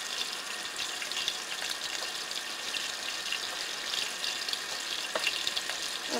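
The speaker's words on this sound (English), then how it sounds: "I'll just go ahead now and input my pork chops into the pan." Pork chops frying in a hot pan, a steady dense crackling sizzle with scattered sharper pops, continuous and close throughout.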